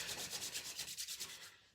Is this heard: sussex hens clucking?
no